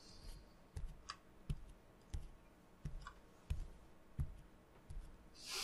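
Stomping footsteps in the Ib video game, a slow, steady series of heavy thuds about every two-thirds of a second over faint hiss, with no voice.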